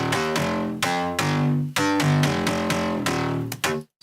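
A punchy, heavily processed synth bass line plays rapid rhythmic notes with bright filtered attacks and stuttering cuts, loud and alone, with a brief gap near the end.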